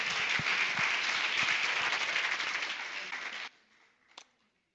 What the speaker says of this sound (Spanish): Aplauda la palabra de Dios.